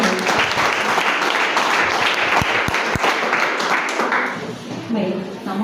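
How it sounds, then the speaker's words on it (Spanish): A church congregation applauds the Lord after a sermon, sustained mixed clapping with a few sharper individual claps, fading slightly toward the end under a faint background of voices. "yo aplaudo al Señor, hermano."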